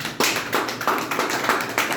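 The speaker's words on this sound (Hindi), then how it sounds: "मैं चाहूंगा जोरदार तालियां हो" Loud, rhythmic clapping from a room at a money club planning meeting in Kanpur, rising in regular beats as people applaud a team leader, with no talking over it.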